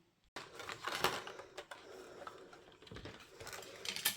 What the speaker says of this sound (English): I want to cut them out, so I'm going to run them through the Gemini machine.